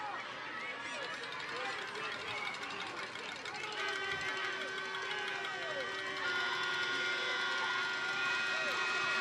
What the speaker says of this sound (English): You can hear the crowd getting behind them as they may try and pull away even more